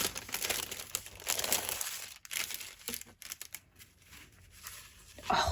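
A pocket letter made of blue glitter paper is opened by hand, with close, bursty crinkling and rustling of the paper that rises and falls over several seconds, and no talking.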